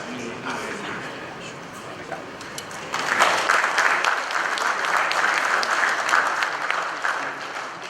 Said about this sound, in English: Clearly the Nigerians are generous, that's why that applause is going on.